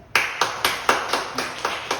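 Church congregation claps in thanks during a Sunday service, eight sharp, evenly spaced claps in a steady rhythm, close and fairly loud.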